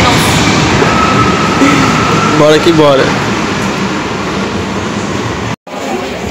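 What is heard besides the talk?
busy train station with trains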